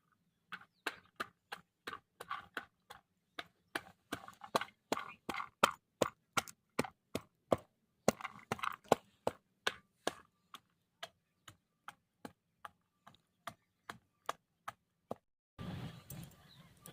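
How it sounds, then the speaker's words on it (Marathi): Garlic cloves are crushed for a Maharashtrian soybean dry curry with drumstick powder, producing a long run of sharp, evenly spaced pounding knocks, close and fairly quiet, with no talking. "मी तर ते आता मी ठेचून घेते"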